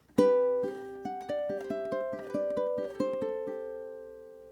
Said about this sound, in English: So a really cool walk down.